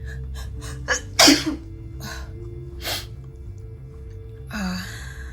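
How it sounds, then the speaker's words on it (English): A single loud, sharp human sneeze with a quick breath beforehand, heard close in a quiet indoor room alongside a few softer breaths and small noises. "Oh, I'm gonna sneeze."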